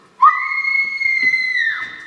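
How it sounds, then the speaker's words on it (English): A woman screams from inside a billiard room in a Clue game, one sustained, piercing cry lasting over a second, heard alone. "The screams are coming from the billiard room."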